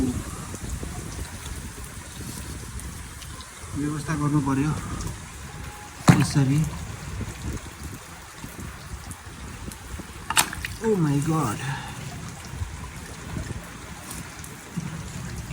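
Floodwater rushes through streets after heavy rain in Kathmandu as a steady, broad watery roar that runs throughout, with people talking and exclaiming over it.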